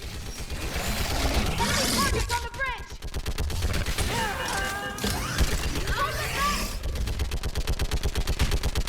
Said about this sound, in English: Okay, fine, I'll use your gun.